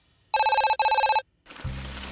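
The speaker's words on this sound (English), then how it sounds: "Oh, I just need to answer the phone." A cartoon telephone rings in two loud, bright bursts, then stops as a low rumble and clatter rise in a garage where monster trucks get new wheels.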